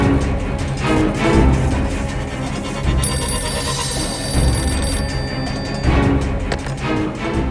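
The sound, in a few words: telephone ringing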